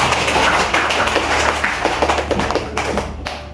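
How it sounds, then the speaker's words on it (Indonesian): Children clap a quick, patterned rhythm together in a primary school classroom, a dense run of close taps and claps with a steady low beat underneath. "tepuk semangat"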